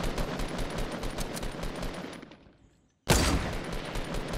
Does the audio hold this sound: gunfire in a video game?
yes